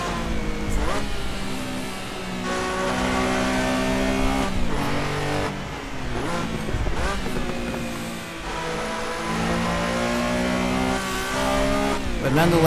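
Race car engine in the driving sim Assetto Corsa, revving hard and shifting through gears with rising and falling pitch sweeps, loud and continuous throughout, with faint tire squeal.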